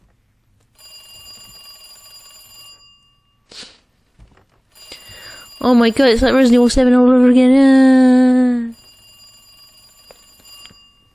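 A telephone rings in Resident Evil 2 Remake, a loud electronic ring in several bursts with strong harmonic tones, heard alongside in-game ambience and a voice talking over it.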